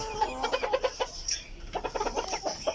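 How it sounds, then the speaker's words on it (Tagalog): Several chickens in a new battery cage cluck in quick, irregular bursts, close by, with a brief higher call in the middle. "dito nga pala yung mga manok na nasa loob ng aking battery cage na bagong sit up"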